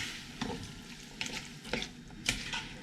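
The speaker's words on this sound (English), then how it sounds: "And give that a stir in," Kidney beans being stirred into a sizzling sweet potato chilli in a pot, four or five distinct scraping spoon strokes over a soft continuous simmer, close and fairly loud.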